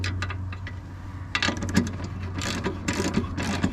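Nuts being loosened off T-bolts on a fishing rod rack mounted in a track system, giving a run of small metallic ratcheting clicks and taps, close and fairly quiet, with no talking.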